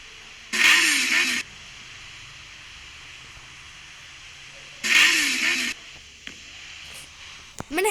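A Harley motorcycle built in Minecraft revs in two short, loud bursts several seconds apart, with quiet pauses and faint clicks between them.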